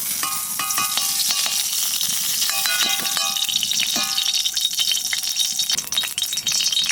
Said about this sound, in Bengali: ঘিয়ের উপরে দিয়ে দেবো জিরে